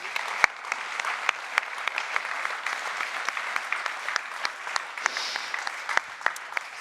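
A public event audience applauds an ambassador, a steady sustained clatter of many hands clapping close and fairly loud, with no talk over it.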